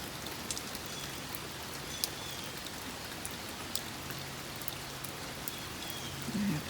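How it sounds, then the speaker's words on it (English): Steady rain falls outdoors, a continuous soft hiss with scattered louder drop taps on surfaces throughout, no voices. "we'll see if it stops raining here soon."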